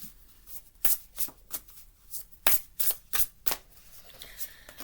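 A deck of oracle cards is shuffled by hand in a quiet room, giving a series of close, crisp riffling bursts in an uneven rhythm that trail off into softer card sliding.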